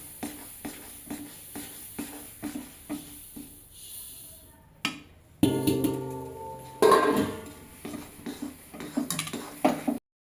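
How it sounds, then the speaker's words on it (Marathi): A spoon scrapes and knocks against a pan as sesame seeds are stirred into melted jaggery for til ladoos, a steady run of clicking taps first, then louder clattering scrapes and bangs. "थोडी थोडी करून अशी तीळ टाकायची आणि कंटिन्यू असं फिरवत राहायचं त्यामध्ये"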